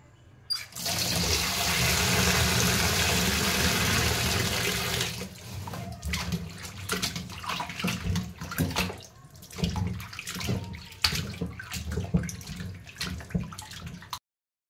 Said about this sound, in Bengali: মাংস খুললে আমি ধুয়ে পরিষ্কার করে নেই